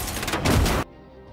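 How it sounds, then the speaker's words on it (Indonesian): Armed troops fire from a car in a film scene, a loud, dense burst of gunfire lasting under a second that cuts off abruptly into a quiet background. "sebuah mobil yang diisi pasukan bersenjata sempat melepaskan tembakan ke arah Tom"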